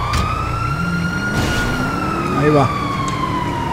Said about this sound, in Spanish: Vamos y callamos la ambulancia esta